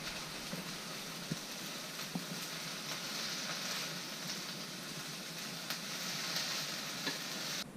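Green beans and garlic stirred in a sizzling pan, a dense, steady frying hiss with faint, scattered taps of the utensil, heard alone at a low level.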